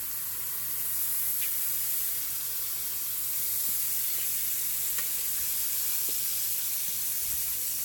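A thick piece of salmon frying in a pan, a constant bright sizzle and hiss that holds level for the whole stretch, with a few tiny pops and no voices.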